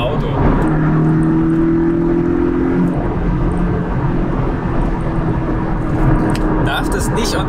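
Interior drone of a Porsche 718 Cayman sports car with its 2.0-litre four-cylinder engine under way, a steady low engine hum and road rumble with sustained tonal lines, continuous throughout.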